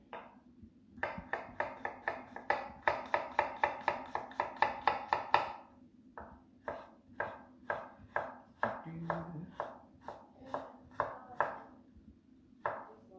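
A knife chops an onion on a cutting board in a fast, regular run of crisp taps, pauses briefly, then goes on in a looser rhythm, close and clear.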